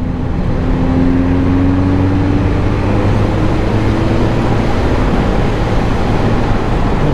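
A 2013 Honda CB1100 motorcycle rides along, its engine holding a steady low drone under constant loud wind rush, with no talking.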